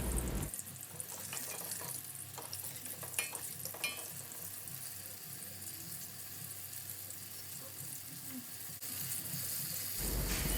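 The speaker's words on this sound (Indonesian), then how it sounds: "Nah, ini sudah agak kecoklatan, aku balik terongnya satu persatu." Eggplant pieces fry in hot oil for terong balado, a steady close sizzle running throughout, with a few brief clatters as the browning pieces are turned one by one.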